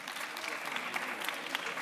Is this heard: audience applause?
yes